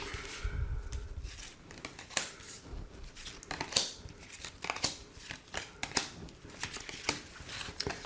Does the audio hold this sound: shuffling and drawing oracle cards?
yes